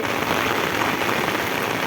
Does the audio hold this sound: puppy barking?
no